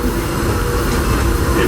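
A Disneyland Railroad train rolls along the rails toward New Orleans Square Station, a steady, close rumble of wheels and carriage noise with no distinct clacks or voices.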